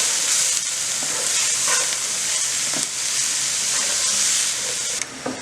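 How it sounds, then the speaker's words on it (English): Jalapenos and mushrooms sauté in oil in a pan with a loud, continuous hissing sizzle, broken by occasional scrapes and knocks of a stirring utensil. "now we are going to start by sauteing our jalapenos as well. And we're also going to saute our mushrooms."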